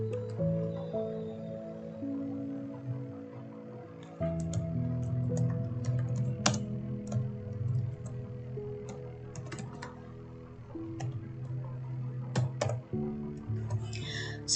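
Light keyboard clicks from a computer keyboard come in sparse, irregular bursts, faint and close, over a steady background hum of music.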